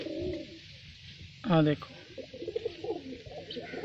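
A single pigeon gives a brief close coo in a loft, while someone talks around it.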